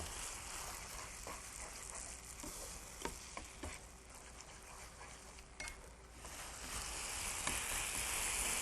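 Glass noodles with soy sauce stir-fried over high heat, a steady faint sizzle and patter with a few light clicks of utensils against the pan, no voices.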